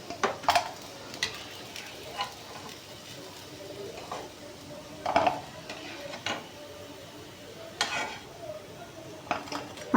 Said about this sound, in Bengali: আমি বাকি পিঠাগুলো এইভাবে একইভাবে ভেজে আপনাদের দেখাবো।